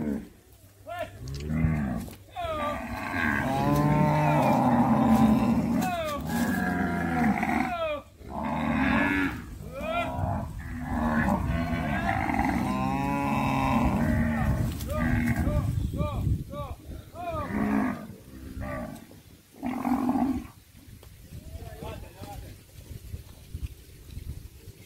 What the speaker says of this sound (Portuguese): o gado é todo entrando lá no curral